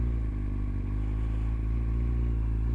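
A 2008 Kawasaki Z1000 four-cylinder motorcycle engine held at higher revs, a close, steady mid-pitched drone with a slight clattery texture, sustained evenly without talk.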